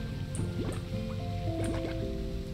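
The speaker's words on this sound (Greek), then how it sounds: "Α, νερό, λίμνη με νερό." Water in a pond in the game Slime Rancher 2 gives soft squishy drips and gurgles, several light liquid plops scattered over a steady ambient game hum, with sustained musical tones in the background.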